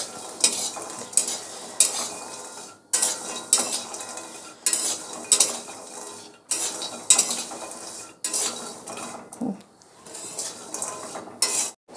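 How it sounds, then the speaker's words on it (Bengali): Soya chunks with salt and turmeric fry in a pan while being stirred. A busy sizzle comes in repeated bursts of a metal spoon scraping and clinking, with brief quiet gaps between the strokes. "একটু লাল লাল করে ভাজবো"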